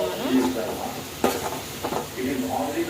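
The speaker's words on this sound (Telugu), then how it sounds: "చుక్కకూర ఇలాగా ముందుగా ఉల్లిపాయలతో పాటు ముందుగా ఫ్రై అయితే చేసేసుకోండి" Chukkakura greens with onions sizzle and fry in a pan while being stirred, a steady crackle broken by a sharp scrape or knock of the spatula.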